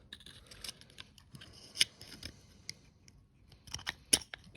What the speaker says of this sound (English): these scissors are not the best.